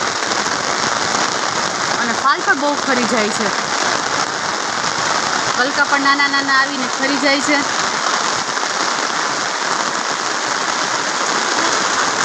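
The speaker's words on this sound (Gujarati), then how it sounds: "ચાલુ વરસાદમાં કંઈક આપણે બકાલાનો આવો નજારો છે" Heavy monsoon rain pours steadily over a vegetable garden, a dense even hiss that runs throughout while a person talks over it.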